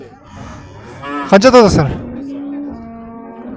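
A cow with her newborn calf at the Tokmok livestock market lets out one loud, close moo, with people talking before and after it.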